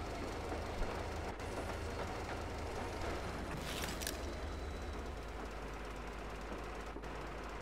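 Train car rolling steadily along the tracks in Metro Exodus, a constant rumbling clatter with a faint hiss, heard alone without talk.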